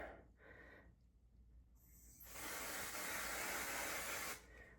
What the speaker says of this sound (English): Just going to spray out in the sink here.